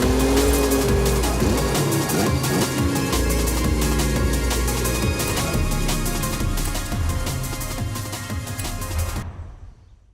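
Engines of a first-generation and a seventh-generation Volkswagen Golf racing in Forza Horizon 5, loud revving with rising and falling gear sweeps and tire noise, continuous for several seconds before cutting off abruptly near the end.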